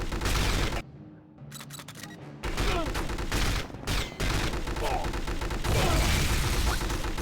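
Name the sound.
grenade explosion in 007 From Russia with Love video game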